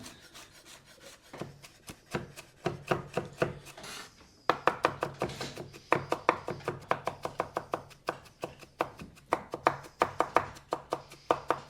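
A knife chops fresh garlic cloves on a wooden cutting board for a cioppino, making a fast, steady run of crisp, close taps with a brief pause partway through.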